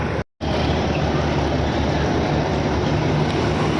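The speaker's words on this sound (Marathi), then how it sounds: "ही बघा ट्रेन येते आमची." A train rolls into a station with a continuous heavy rumble and low mechanical hum, cut by a brief dropout near the start, then steady and close for the rest.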